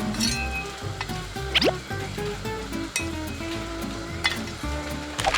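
Chicken pieces marinated in Thai fermented fish sizzle steadily in hot oil, a dense crackling hiss with occasional clinks and utensil scrapes, close and fairly loud with no talking.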